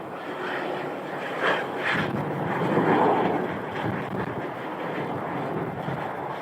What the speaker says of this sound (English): 787-8 Dreamliner. This is one of their everyday regular flights.